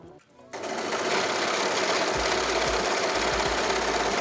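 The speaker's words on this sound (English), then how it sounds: "And then we just sew it." A sewing machine stitches a knitwear garment, its steady motor whir starting after a brief pause and running continuously at close range with rhythmic low thumps.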